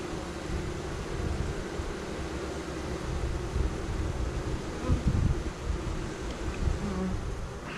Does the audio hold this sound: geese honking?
no